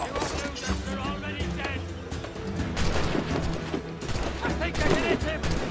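Soldiers firing guns in Assassin's Creed Black Flag, a dense, continuous barrage of loud overlapping shots with heavy booming under game music, while a voice talks over it.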